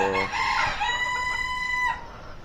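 In an aviary at feeding time, a rooster lets out one loud, close crow lasting nearly two seconds, trailing off into quiet, with no voices.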